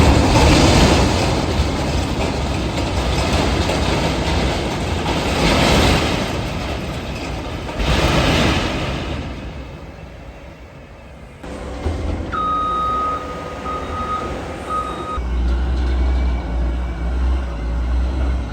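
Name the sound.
lowboy truck pulling out, reversing beeps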